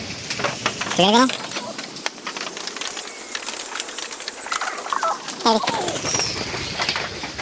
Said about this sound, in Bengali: এটা তো বাইরের কবুতর এ এখানে কেন